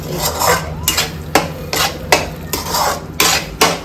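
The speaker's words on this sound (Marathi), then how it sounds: "आता हलवून घे त्याला. मिक्स करून घे." A metal spoon stirs onion masala in a pan, scraping in a steady rhythm of repeated strokes about every half second. It is close and loud, with no talking.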